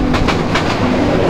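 A passenger train bound for Sreemangal rumbles along steadily, its wheels clicking over rail joints in a regular clickety-clack rhythm, loud and continuous throughout.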